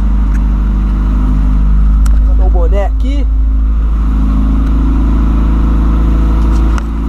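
A Volkswagen Voyage idles loudly through its exhaust after sitting unused for a month, a steady heavy rumble close by with a slight rise in revs, while someone speaks briefly over it.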